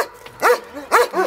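A dog barks in quick, sharp yips, three barks in a little over a second, close by and fairly loud.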